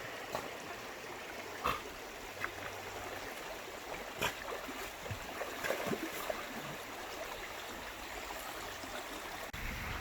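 A creek in thick forest woodland of Ouachita National Forest flows steadily as a soft continuous wash of water, with a few brief splashes and trickles scattered through it.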